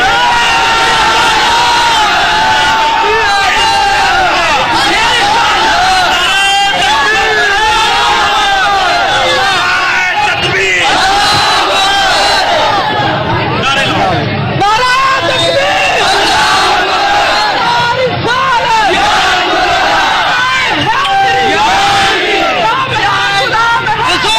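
An agitated mob shouts and chants at Nankana Sahib Gurdwara in Pakistan, a loud, continuous roar of many voices with rising yells and cries throughout.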